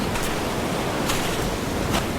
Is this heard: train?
no